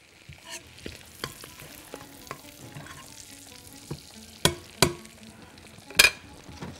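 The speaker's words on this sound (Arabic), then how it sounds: "عايز احمر البيف بيكون ده او البسترما او الدراي بيف او السموك تركي" Beef bacon frying in a pan: a soft, low sizzle broken by scattered utensil taps and a few sharp clinks near the end, with no voices.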